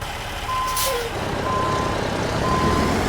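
A truck backs into a parking spot in American Truck Simulator, its reversing alarm beeping at a steady, regular pace over a loud, rumbling idling engine. A brief hiss of air is heard near the start.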